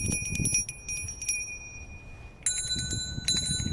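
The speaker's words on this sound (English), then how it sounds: "I hope that you can hear these bells" Bright, high-pitched memorial bells ring in Kyiv in quick clustered strikes, two bursts of ringing separated by a short pause, clear and fairly close.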